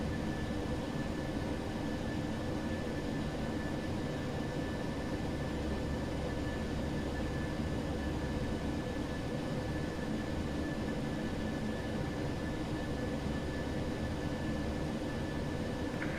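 A Boeing 737-800 takes off in a flight simulator game, giving a steady, continuous engine roar with broadband rushing noise that holds level throughout, with no talking.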